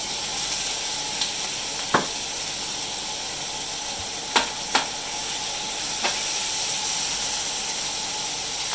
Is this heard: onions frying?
yes